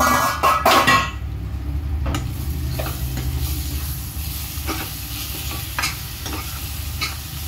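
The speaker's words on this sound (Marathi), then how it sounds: "छान असं परतून घेऊया" Chhole masala for chhole bhature is stirred and sautéed in oil in a pan over low heat. A loud scraping stir opens the clip, then a steady close sizzle continues with a few light clinks of the spoon against the pan.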